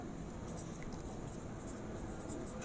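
Marker or chalk scratches steadily across a board as a chemistry question is written out, a continuous soft scraping close up with no speech.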